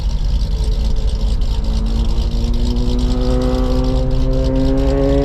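A 2025 Ford Mustang GT S650 V8 with stock mufflers idles and then revs steadily with a deep, throaty exhaust rumble, rising in pitch toward the end, loud and close.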